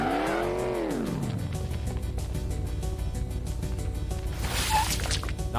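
Cartoonish car engine in the video game Enviro-Bear 2000, with a bear at the wheel, revving with a sweeping pitch drop, then droning steadily and loud, with a brief tire-squeal-like burst near the end.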